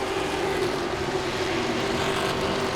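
Grand Stock race cars on the final lap at Langley Speedway, Virginia, a continuous dense engine drone with a steady pitch carried from the track, no voices over it.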